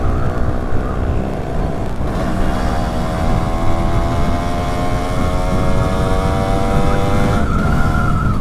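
A Yamaha F1ZR two-stroke motorcycle rides down a straight road at night, its engine holding a loud, steady whine that climbs slowly in pitch over constant wind rush.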